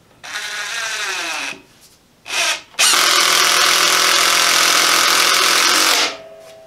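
An impact driver sinking a 3.5-inch screw with a driver bit: a short whirring burst, a brief blip, then a long loud grinding whine of several seconds that winds down, close up with no talk.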